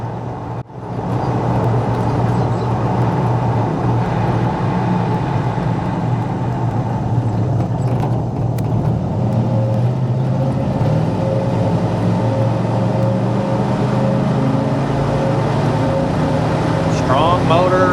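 A 1998 Chevrolet K1500 4x4 short-bed pickup's engine hums steadily with road and cabin noise during a test drive, loud and continuous after a brief dip at the start.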